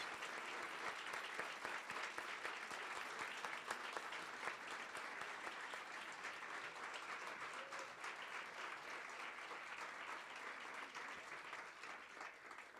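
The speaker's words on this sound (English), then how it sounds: "And give them a big round of applause." A sustained round of applause fills the hall at a distinguished speaker series event as military wives and widows stand; dense, even clapping from a large crowd, heard from some distance.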